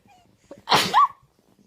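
A baby sneezes once, a short sharp burst with a breathy squeaky tail, close and clear against near silence.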